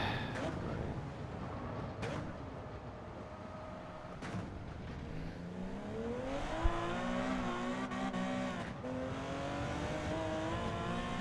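A 1970 Porsche 917K race car driven in Gran Turismo 7 on PS VR2, its engine note rising and falling through gear changes at a moderate, steady level, with a few sharp clicks along the way.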